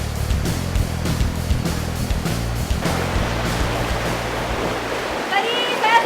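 River current rushing during a long boat journey on a fast-flowing river, a constant loud churning wash with engine-like low rumble and splashes, continuous throughout.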